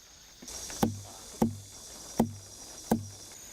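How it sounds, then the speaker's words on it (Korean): Four hollow, resonant thumps at an even pace from a hand tapping a Mudeungsan watermelon in the field among its leaves, close and clear over faint background noise. "손으로 두드리자 청명한 소리가 납니다."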